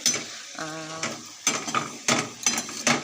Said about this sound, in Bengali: এই যে মশলা কষাচ্ছি এখানে মশলা কষানো হচ্ছে